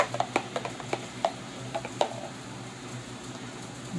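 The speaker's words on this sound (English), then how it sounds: "I'm just going to stir it up a bit" Homemade aloe vera gel is stirred with a series of soft, wet clicks and taps against the container, irregular and close, over a quiet background hum.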